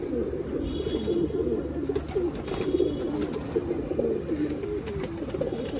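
A black-necked pigeon coos in repeated soft, throaty phrases close by, with faint chirps and background noise around it.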